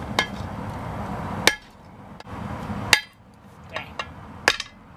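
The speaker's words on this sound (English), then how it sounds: "Now I'm going to try to upset it on my swage block here." A hammer strikes hot jackhammer-bit steel on a swage block while forging a one-piece Bowie knife, several sharp ringing blows spaced unevenly with quiet gaps between, close and loud.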